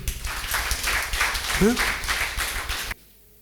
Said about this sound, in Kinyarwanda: mubongera amashyi pe